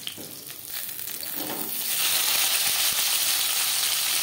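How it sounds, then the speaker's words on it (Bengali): Fish frying in hot oil for a fish curry with ridge gourd: a steady, close sizzle that swells louder about halfway through and holds as a dense hiss, with no voices. "পরের মাছ একইভাবে ভেজে নেব।"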